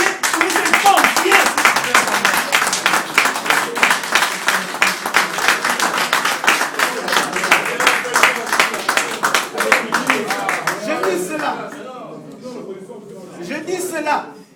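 An audience at a tribute gathering claps steadily, a dense run of close, rapid hand claps that holds for most of the stretch before thinning into scattered claps, with some voices underneath.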